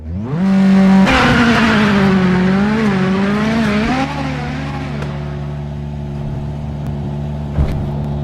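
A rally car races a mixed tarmac and snow stage in the video game WRC 7. The engine is loud and close, revving hard with rising and falling pitch through gear changes, and then settles into a steadier drone.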